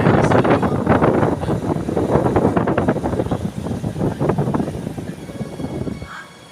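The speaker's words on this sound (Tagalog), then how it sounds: "Mahangin lang, mahangin." Strong outdoor wind buffets the microphone in loud, rumbling gusts that rise and fall, with a rushing roar and no clear voices over it before it drops off at the end.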